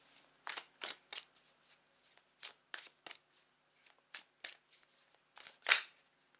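Tarot cards shuffled by hand in a series of crisp riffling bursts, each lasting a fraction of a second, spaced irregularly and close up, with no talking over them.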